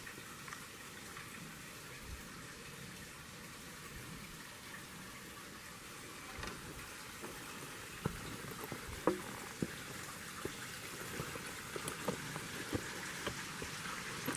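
A steady, faint rush of a waterfall along the Talus and Three Sisters trails in Green Mountain Preserve continues throughout, with scattered small splashes and taps, heard from some distance.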